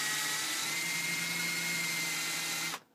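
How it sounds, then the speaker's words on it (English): A power drill whines steadily at high speed into metal for nearly three seconds, then stops abruptly, leaving near silence. "drill a little divot"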